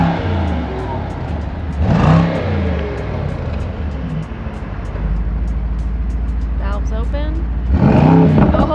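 A 2024 Mercedes-AMG GT63 engine revs up loudly in bursts against an exhaust limiter around 4,000 rpm, rising and falling over a steady idle, with a low rumble between pushes of the throttle.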